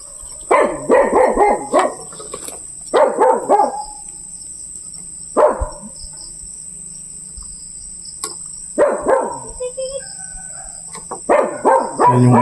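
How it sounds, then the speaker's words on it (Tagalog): A neighbouring dog barks in several short volleys from some distance, with pauses between bursts, over a steady background of chirping crickets at night. "Yan yung aso sa kabila oh."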